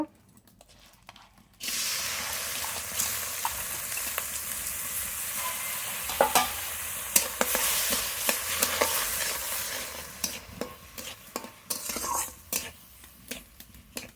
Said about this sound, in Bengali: ডাল একটু হালকা করে ভেজে নেব